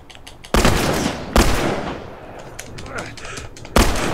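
Gunfire in The Last of Us video game: several loud, sharp shots with heavy echoing tails, spaced irregularly across the moment, close and dominant.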